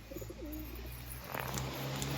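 Pigeons coo at a loft where tumbler pigeons are kept, low rolling calls repeating over steady background hum, with a brighter chirp near the end.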